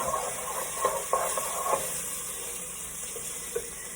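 Garlic and onion frying together in a pan for egg roll filling, a steady soft sizzle with a few brief stirring scrapes and clicks, close and fairly quiet.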